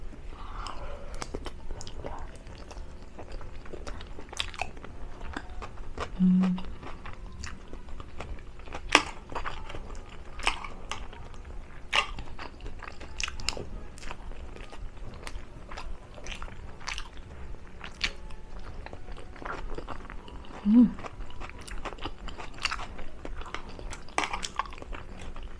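Close crunchy chewing of hotdog with raw onions, with steady wet bites and crisp crunches repeating throughout a quiet room.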